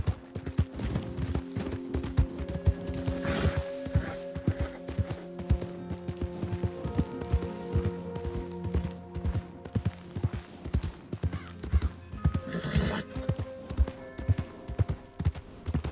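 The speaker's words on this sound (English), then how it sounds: "My horse! Am I glad to see you?" In the video game Red Dead Redemption 2, rhythmic hoofbeats clip-clop steadily alongside layered musical tones, with a horse whinny rising briefly near the end.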